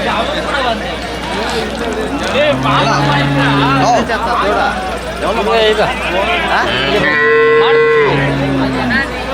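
Cattle moo repeatedly at a busy calf market in Krishnagiri district, with several loud, drawn-out calls rising over a constant hubbub of crowd chatter and people talking nearby.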